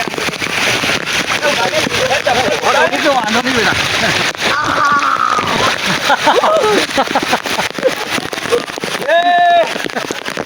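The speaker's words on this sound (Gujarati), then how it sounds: "પાણી તો જો જાણે નદી વહી રહી છે એવું લાગે છે" Monsoon rainwater rushes down a street in Ahmedabad like a river, a continuous splashing wash heard close under loud, frequent talking voices.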